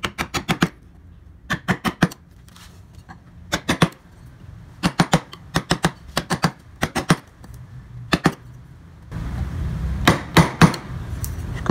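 Mallet blows on a wood carving chisel shaping a convex curve, sharp percussive knocks in quick clusters of two to five strikes with short pauses, close and loud, no talking.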